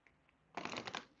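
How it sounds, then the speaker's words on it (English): Tarot cards are shuffled close by, a quick riffling burst of papery flicks lasting about half a second after near silence. "just shuffling the cards and getting ready"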